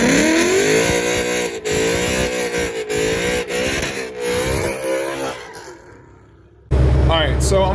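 Ford Mustang GT exhaust revs hard to high RPM in repeated loud, rising pulls, with brief drops between revs, then falls quiet before a sharp loud bark at the end.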